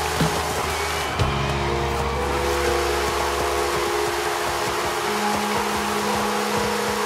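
A 1962 Lincoln Continental driving in Forza Horizon 5, a steady, loud engine drone with a low hum and shifting tones throughout, no talking.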